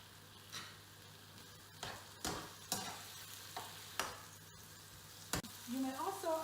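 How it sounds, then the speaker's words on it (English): Beef and pepper stir frying in a pan on a home cooker for a Nigerian fried meat dish, with a low steady sizzle broken by irregular scraping stirs and clatters, close and moderately loud, with no talking. "this goes onto my cooker to stir fry for about 10 minutes"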